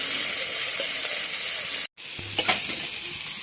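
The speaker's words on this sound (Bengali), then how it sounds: "এবার মাছটা আমি ভেজে নিই।" Dried fish fries in hot oil, a strong, constant sizzle with scattered crackles and the scrape of stirring, close and loud, broken by a brief silent gap partway through.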